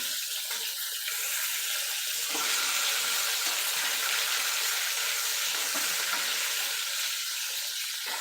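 Brinjal (eggplant) pieces fry in oil for a masala curry, giving a loud, continuous hissing sizzle that stays dense and even throughout without speech.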